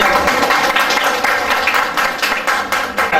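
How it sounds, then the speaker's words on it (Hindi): Audience at a silver jubilee celebration cultural programme for a priest claps steadily and loudly throughout, dense applause with no voices over it. "सब जोर से ताली करें।"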